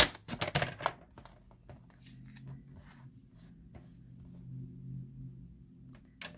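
A paper trimmer slices through card stock during pocket-card making, giving a few quick, close rasping cuts at the start before settling into a quiet low hum.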